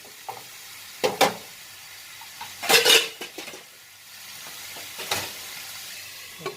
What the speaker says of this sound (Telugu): డీప్ ఫ్రై అయిపోయింది టమాటా కూడా